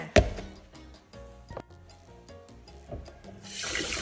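One kilogram of cassava being washed in a basin, with splashing and sloshing water, a sharp knock at the start and a rushing pour near the end, close and without speech.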